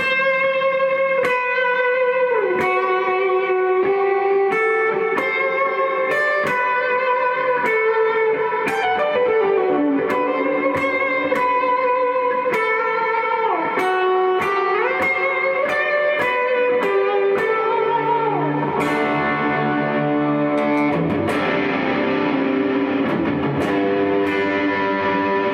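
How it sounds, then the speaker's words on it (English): Sustained electric guitar notes and chords run through ambient reverb, long delay, and Dude and RC booster pedals, ringing loud with long echoing tails, slides and a thick driven swell toward the end, with no talking. "So here's like a ambient reverb, long delay with the Dude and the RC booster."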